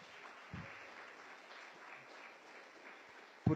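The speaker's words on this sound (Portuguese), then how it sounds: "Podem aplaudir o Senhor." Church congregation applause during a service, a soft, distant patter of many hands that stays faint and even throughout, with a couple of brief thumps near the start and end.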